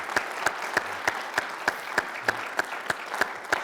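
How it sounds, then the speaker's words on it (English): Audience applause at the close of a talk, heard as a steady run of evenly spaced claps over a low, even background hiss with no talking. "let's give him a round of applause"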